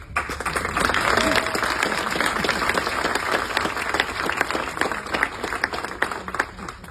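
Applause at a town council meeting after the Roxbury High School Marching Gales are introduced, a sustained crowd clapping that holds steady for several seconds before thinning out, with faint voices underneath.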